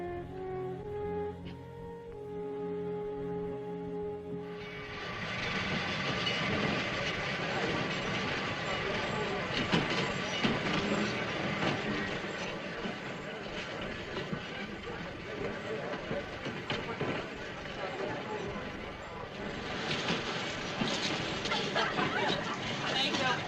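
A 1940s railway train runs steadily on its rails, a continuous broadband rumble that fills the scene after a brief opening of music, with people talking over it.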